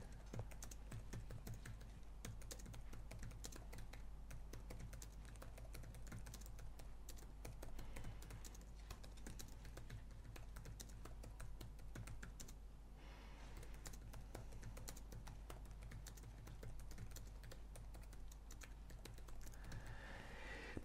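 Steady typing on a computer keyboard, continuous quiet clicking keystrokes at close range over a low background hum, with no voices.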